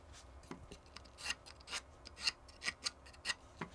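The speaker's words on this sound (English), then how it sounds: "Make sure we've got the edges lined up properly and scribe our lines." Scribing lines with a marking tool on wood for a wooden spoon mule leg, a series of short, close scratching strokes in an irregular rhythm, fairly quiet with no talking.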